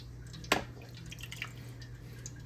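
Brined baby back ribs drip as they are lifted out of the brine, giving one distinct splashy drip followed by a few faint, scattered trickles over a low hum.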